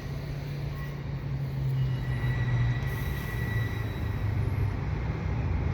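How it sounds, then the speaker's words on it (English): An Amtrak Adirondack passenger train backs up over a viaduct in Griffintown, giving a steady, loud rumble of wheels on rails with a low engine drone and faint high squeals. "The Amtrak train is backing up over the viaduct."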